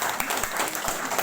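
Audience applause at a farewell and welcome ceremony for government officials in Barsoi, a steady wash of many hands clapping together, fairly loud and continuous for the whole stretch.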